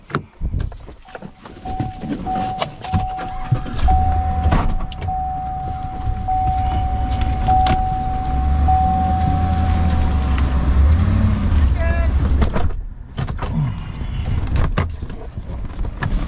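A tractor towing two dump trailers loaded with topsoil pulls away, its engine a steady low rumble building and holding with a faint whine, then dropping off near the end amid rattles.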